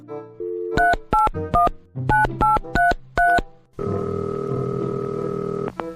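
A telephone keypad beeps through a quick series of dialing tones, then a steady ringing tone sounds on the line.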